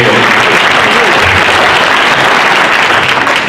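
A crowd at a campaign kickoff event applauds a live band, a loud, dense, steady wash of clapping that fills the whole stretch without letting up.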